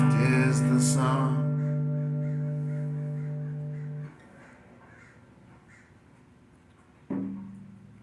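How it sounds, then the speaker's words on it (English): Crows caw in a loud, harmonic burst at the start, the calls trailing off into a quiet stretch before another sharp caw near the end, nearby and alone with no talk. "And the crows are still cawing."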